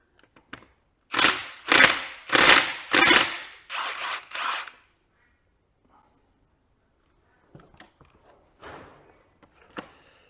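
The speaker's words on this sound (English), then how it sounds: "Take that bolt out." A bolt being worked loose with a ratchet on a Fendt tractor rear axle: a close, loud series of five or six rasping ratchet strokes in a steady rhythm, followed by quieter scattered metallic clicks and handling.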